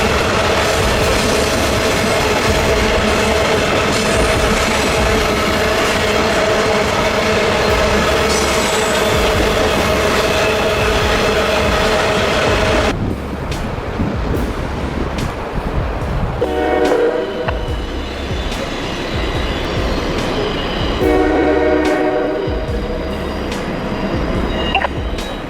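Rail noise from CPSD-40 diesel locomotives working a train of dump cars loaded with giant boulders, a loud steady rumble with horn-like tones for about half the clip, then rougher clanking and scraping with occasional sharp knocks.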